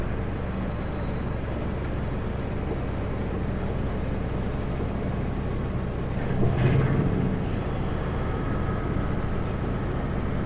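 Heavy truck with an engine brake descending eastbound over Anarchist Pass, a steady loud low rumble throughout with a brief swelling roar near the middle, heard from inside the cab.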